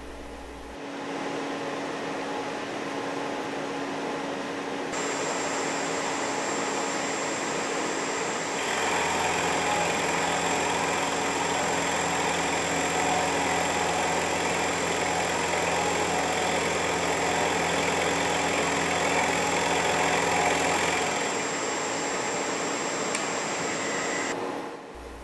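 A milling machine takes a light finishing cut in the climb direction, about ten thousandths deep, with a steady loud whirring tone and spindle hum that holds for around twenty seconds and then drops back.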